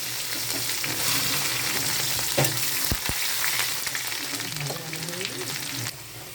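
Chopped onion frying in hot oil with cumin seeds, a bay leaf and a dried red chilli, a steady close sizzle throughout with a few brief stirring scrapes.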